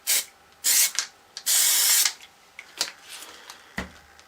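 Spray paint from an ordinary aerosol can fitted with the same cap, hissing out in bursts: a short blast, a longer one near the start, then a sustained spray around the middle, followed by quieter rattles and clicks with no talk.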